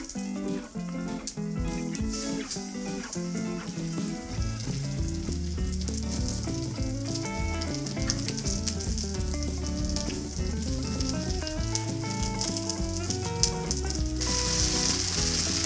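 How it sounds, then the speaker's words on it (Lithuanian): Pork neck steaks dredged in starch frying over a high flame on a Kamado grill outdoors in the cold, a loud, dense, continuous crackling sizzle with rapid popping, close up throughout. "ir dedame ir kepame ant didelės liepsnos"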